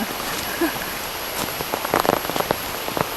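Steady rain falls on surfaces around Tham Luang cave at Khun Nam Nang Non in Chiang Rai, a constant hiss with scattered nearby drips and taps, while people talk faintly.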